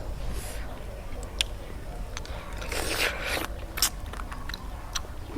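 A few close, crisp crunching bites of bitter gourd eaten with spicy cockle salad, with chewing in between, sound against a quiet, low background.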